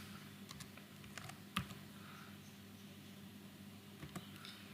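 Typing on a computer keyboard while working in Excel, with soft, quiet key clicks coming in scattered short bursts and one sharper tap.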